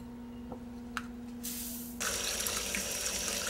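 A kitchen tap runs water over lentils being washed, with faint clinks first, then a rushing stream that grows louder and fuller as the flow increases, close and steady.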